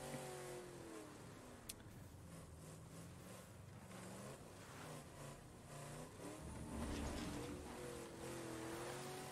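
A battered car drives in the video game State of Decay 2, its engine a steady low drone that swells and revs a little higher near the end, heard alone without speech.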